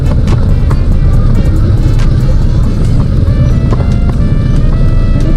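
Busy street traffic with tricycles and e-bikes passing, a steady loud wash of engines and road noise with occasional horn-like tones, close and continuous throughout.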